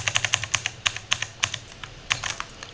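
Quick bursts of clicking keystrokes on a computer keyboard as Python code is typed, close and crisp, with short pauses between runs of keys.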